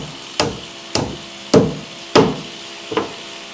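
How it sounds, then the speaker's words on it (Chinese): Five sharp hammer blows drive long threaded galvanized nails at an angle into solid wood flooring in a rural wooden house, each strike loud and ringing with a brief woody decay, spaced roughly half a second apart. "看师傅打的钉子都是斜着打的"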